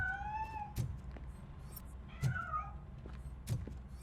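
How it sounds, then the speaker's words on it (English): A cat meows in RoboCop: Rogue City, several short meows spaced a second or so apart, moderately close over low background noise, no talking. "That cat must be hiding inside."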